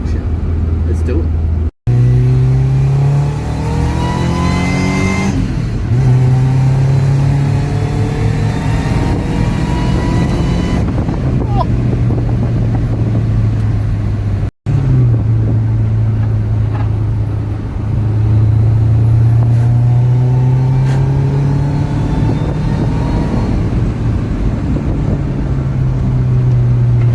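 A supercharged Toyota 3RZ engine in a minitruck on a spirited drive through hills, revs climbing and falling in repeated pulls, loud and close, with two brief cutouts between them.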